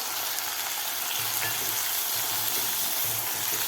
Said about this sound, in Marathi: टोमॅटोसुद्धा आपल्याला सॉफ्ट होईपर्यंत आपल्याला परतून घ्यायचं आहे